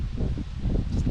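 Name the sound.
strong wind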